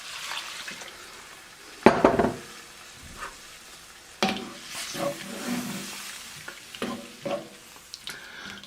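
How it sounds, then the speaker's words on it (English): Beef broth splashes into a hot pan of Swiss steak mixture with a loud burst, then settles into a steady sizzle and bubbling, with a few clinks of a utensil against the pan. "And we're just going to add our beef broth."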